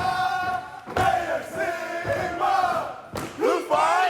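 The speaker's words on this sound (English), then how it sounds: "So who are these guys doing all the yelling and cheering for you today?" A group of fraternity brothers yells and cheers at a TV game show, loud rowdy shouts rising in repeated bursts with brief dips between, close and energetic with no clear speech.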